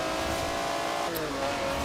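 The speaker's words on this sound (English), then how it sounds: "I really like the engine noise when it's stuck actually." BMW 850CSI V12 engine in Forza Horizon 4 during a road race: a continuous loud engine drone with a rising and falling tone, and no voices.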